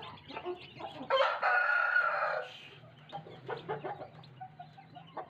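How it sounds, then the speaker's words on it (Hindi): A large grey hen clucks in short, close bursts, with a loud drawn-out call in the middle and soft peeping and clucking of her chicks around it, outdoors in sunlight. "ये बड़े वाली जो ग्रे मुर्गी है ना, उसको बच्चों के साथ में मैंने बाहर निकाला है धूप लगवाने के लिए ना।"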